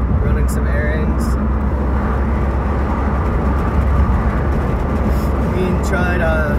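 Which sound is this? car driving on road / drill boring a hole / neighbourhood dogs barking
car driving on road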